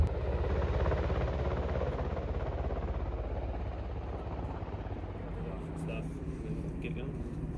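A small private plane's engine drones steadily with a throbbing propeller pulse at an airfield, close and continuous from inside the cabin, while people talk over it.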